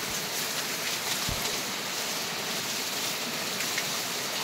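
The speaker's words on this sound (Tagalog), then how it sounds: "Malakas na yung ulan ah." Rain pours down in a steady, dense hiss, even and continuous, with no voices.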